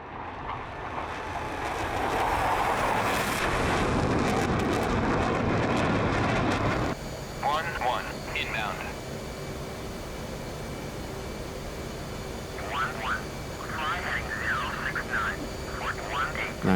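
Steady broadband roar of an F/A-18C jet engine in flight in DCS, loud and even for several seconds, then dropping to a quieter cockpit hum with bursts of speech over it.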